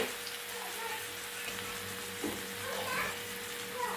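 Spices and tomato go into hot oil for a home-style dal tadka, making a steady broad sizzle up close that runs through the whole stretch with slight swells in intensity.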